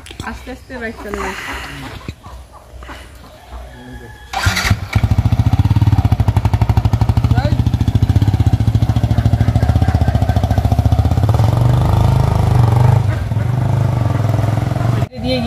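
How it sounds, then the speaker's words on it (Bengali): A motorcycle rides slowly with a steady, loud engine drone close by after about four seconds, its low rumble continuing to the end under wind and road noise. "আস্তে আস্তে বাইক চলে"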